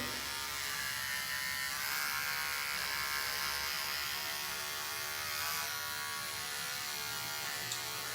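Andis dog grooming clippers with an adjustable blade buzz steadily at close range, a constant whirring motor hum with no talk over it.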